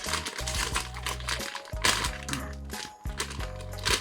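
A Japanese snack packet torn open, loud close crinkling and crackling plastic that runs almost continuously in several bursts, with a low hum underneath.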